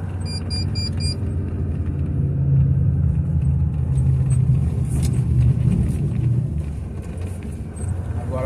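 A loaded Volvo FH 540 sugarcane truck rolls off a farm field, its heavy diesel engine rumbling low and steady up close, with cab rattles and jingling, a short high whistle at the start.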